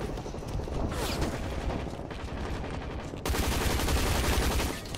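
An M249 machine gun in the shooter game Hazard Ops fires in continuous dense bursts, loud and close, getting heavier toward the end.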